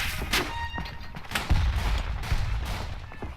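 Rifle shots in a trench-warfare video game, Verdun, a few sharp cracks and one heavier thump scattered over a few seconds against a low battlefield rumble, moderately loud.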